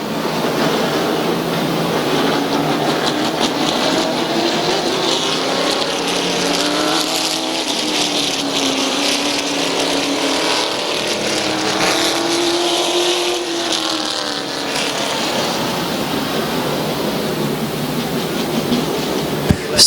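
Race cars lapping a dirt oval at Midvale Speedway, a continuous loud engine roar with engine pitch rising and falling as cars pass, over crowd-level ambience.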